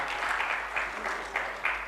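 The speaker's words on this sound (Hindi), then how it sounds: "तेरी एक बार तालियां हम चाहते हैं कि रुद्रा साहब के लिए" Audience applause at an All India mushaira, a steady wash of clapping from a crowd with no pause, rising in brief swells through the whole stretch.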